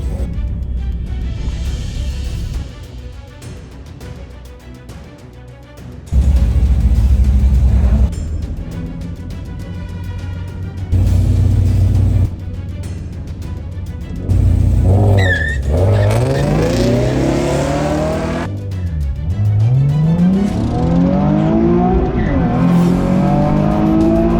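Car launching down the quarter-mile drag strip at Santa Pod, engine roaring up through the gears with rising revs and sharp shifts, loud and close, with brief wind-like roar between pulls and no talking.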